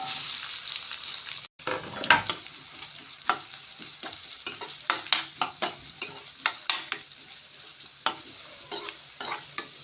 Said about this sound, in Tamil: இந்த பெரிய வெங்காயம் நல்லா எண்ணெயிலேயே ஃப்ரை ஆகட்டுங்க